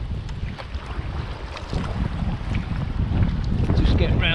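Choppy, confused sea as waves rebound off cliffs and mix with incoming swell around a sea kayak near Durdle Door headland, a steady close wash of water and splashing under strong wind buffeting, growing louder toward the end.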